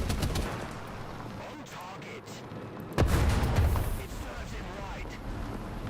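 In War Thunder, .50 caliber machine guns rattle in rapid bursts with a loud heavy blast partway through, while voices talk over the gunfire.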